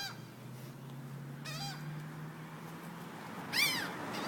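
Birds drawn in by goldfish call from a flock outdoors, giving a few loud, harsh wavering cries spaced apart over a low steady hum and background noise.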